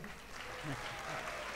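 Audience applause at a Vyasa puja celebration for HH Gopal Krishna Goswami, a faint, steady wash of clapping from a crowd heard at a distance.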